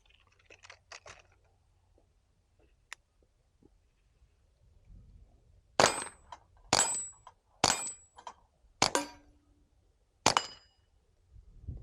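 A suppressed Ruger Mark IV pistol fires CCI Mini-Mag rimfire rounds outdoors: five sharp, muted cracks spaced about a second apart, each with a slight metallic clack from the action, after quiet handling noises.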